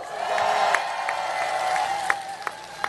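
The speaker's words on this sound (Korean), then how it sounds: "격려 박수 부탁드립니다" A crowd at a political rally in Jeju claps steadily amid a broad hum of audience noise, with a few sharper claps standing out.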